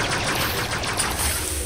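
A quick rattling stream of blaster shots in a Star Wars mod for a video game, fired in fast succession, loud and up close.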